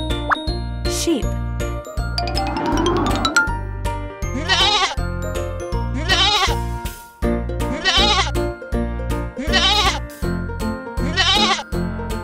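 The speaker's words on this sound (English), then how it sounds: "Sheep." Cartoon sheep bleating in a children's educational colors song, several short bleats repeating rhythmically over a loud, steady music track.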